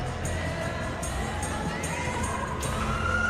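Steady roar of a football stadium crowd in PES 21 at a Manchester City versus Arsenal match, continuous and full with rhythmic swells of chanting and occasional higher cheers, under a commentator's voice.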